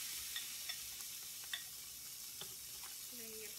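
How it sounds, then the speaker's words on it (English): Chicken pieces laid with tongs onto a hot grill pan, giving a steady, faint broadband sizzle with a few small pops and a brief clatter near the end. "Hear that sizzle."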